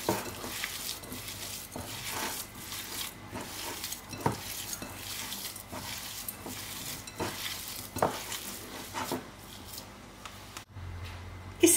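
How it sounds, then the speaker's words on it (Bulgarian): A minced meat mixture for meatball soup, with an optional egg, is stirred by hand, giving a steady wet, squishy churning with irregular soft thumps of the spoon, close and unvoiced. "Разбъркваме добре сместа."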